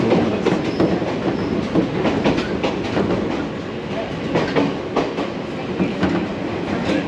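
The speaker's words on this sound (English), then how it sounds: "Here we are catching the train, hopefully in the right direction for 50 kilometres." A passenger train rolls along a railway in Japan, its steady rumble and rhythmic clickety-clack of wheels over rail joints filling the space throughout, heard from inside the carriage with no talking.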